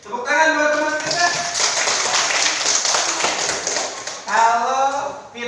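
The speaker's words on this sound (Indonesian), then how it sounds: "Tepuk tangan buat teman kita." Classroom of schoolchildren clapping for a classmate, a dense, steady burst of applause lasting several seconds, with children's voices and a teacher speaking at the start and end.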